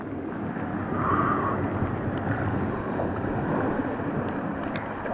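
A waterfall on a forest hike in New Caledonia gives a steady, loud, broadband rush of falling water that fills the whole stretch without a break.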